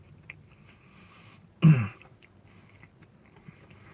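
A single loud crunchy bite into breaded Hardee's ranch chicken lands midway through, a short burst of crisp crackling over quiet background room noise.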